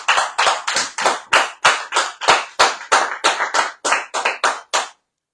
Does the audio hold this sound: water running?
no